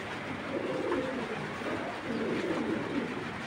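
Racer pigeons coo in low, rolling phrases against a steady background hiss, two bursts of cooing rising and fading across the stretch.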